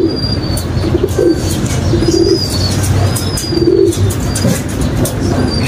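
Young racing pigeons coo in low, soft repeated phrases close by, with a few higher chirps scattered over a steady background hum.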